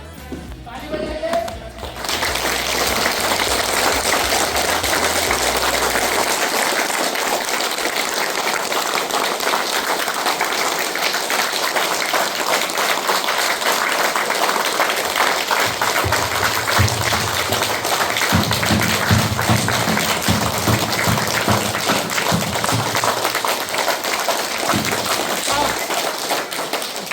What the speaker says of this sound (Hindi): कोई 1 मिनट तक नॉन स्टॉप जोर जोर से ताली बजाना है।